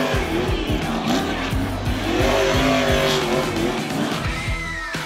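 Race cars roar past at the Zolder circuit, including the Spectra Premium car, with loud, continuous engine drone, repeated pass-bys and bursts of tire squeal and skidding close to the track.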